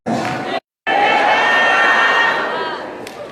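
A church congregation shouts together during a Friday service with a preacher, a loud, dense roar of many voices that drops out abruptly for a moment and then surges back and holds, fading slightly at the end.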